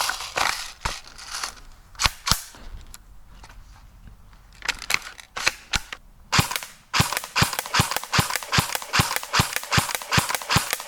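Airsoft gun fired at a target 50 feet away: a series of sharp, close pops, sparse and irregular at first, then a quicker steady run of shots, with no talking.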